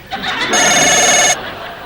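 A telephone rings once in a single sustained electronic trill, loud and close, then cuts off into quiet room tone.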